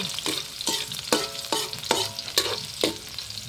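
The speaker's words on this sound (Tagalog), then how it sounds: "Gisa ang sibuyas at bawang." Onion and garlic sauté in oil for a sotanghon and kikiam dish, with a steady sizzle and about seven sharp, regular stirring scrapes against the pan, close and fairly loud.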